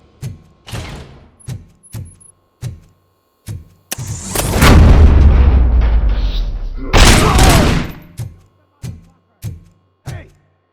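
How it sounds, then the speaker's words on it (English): Gunfire in the video game RoboCop: Rogue City, a regular series of loud, close single shots with two longer roaring explosive bursts in the middle. "Hey, am I hearing gunshots?"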